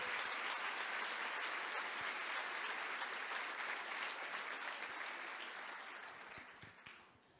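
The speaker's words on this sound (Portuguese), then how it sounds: "Você pode glorificar e aplaudir o nome do Senhor?" Church congregation applauding during a sermon, sustained broad clapping from a large crowd that holds steady for several seconds and then gradually fades out toward the end.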